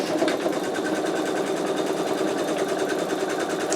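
Embroidery machine sewing a placement stitch: a steady, close, fast mechanical whirring and needle chatter that runs unbroken throughout at even volume, with no talking.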